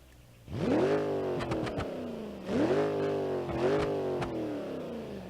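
A go-kart engine in BeamNG.drive revs hard twice against an unadjusted rev limiter, each sweep rising sharply then sagging with stuttering limiter cuts, loud and close with no talking.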